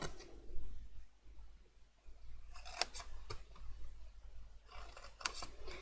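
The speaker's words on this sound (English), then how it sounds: "So I'm going to grab my scissors Okay, so I'm just going to notch these in." Scissors snip into card stock to notch the base of a handmade cascading mini album box, with a few sharp cuts clustered in the latter half amid quiet close-up handling noise.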